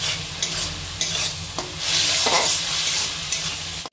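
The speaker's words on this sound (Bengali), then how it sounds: "মশলার কাঁচা গন্ধটা চলে যাওয়া পর্যন্ত মা এটাকে কষিয়ে নেবে।" Ginger garlic paste and spices sauté in a pan for palak chicken, with steady sizzling and frying hiss broken by scraping spatula stirs and soft clinks, close up and without talk.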